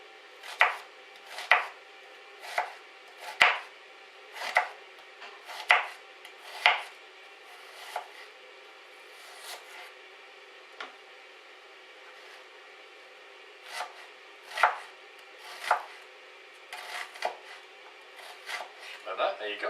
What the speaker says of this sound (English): I'm just going to finely chop this up.